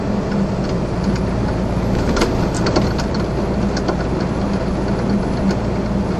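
A car cruises along U.S. 58 through rural Patrick County, Virginia, its engine and tire roar a loud, constant rumble from inside the cabin, with a few brief clicks and rattles on top.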